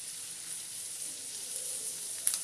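Hot oil in a pan over a high flame for a Chinese dish gives a steady, even hiss of sizzling with no other sounds, plus a small pop near the end.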